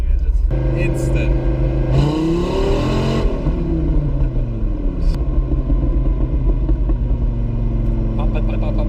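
A naturally aspirated car engine revs up hard, its rising roar sweeping upward through the gears in a loud, close rumble, with a voice speaking over the engine.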